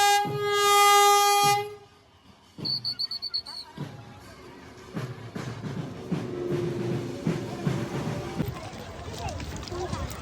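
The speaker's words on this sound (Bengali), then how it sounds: "এই ট্রেনে করে কিন্তু প্রচুর ভক্তরা এসে পৌঁছলেন এই ঠাকুরনগর স্টেশনে" A train pulls into Thakurnagar station during the Baruni Mela, sounding a long loud horn blast, followed by a rhythmic clatter of wheels and a rising rumble of the cars rolling in amid crowd noise and talk.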